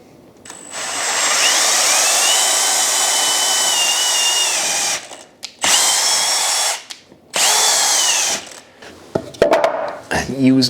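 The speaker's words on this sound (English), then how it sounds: "it's just a case of drill straight down." Power drill boring straight down through a wooden anvil stand for a bolt hole, a loud sustained whine in long bursts with brief pauses and a few clunks near the end.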